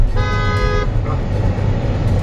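A motorcycle horn blares once in steady traffic, a loud, close tonal honk lasting under a second, with a short faint second toot after it, all over a low rumble of road traffic and engines.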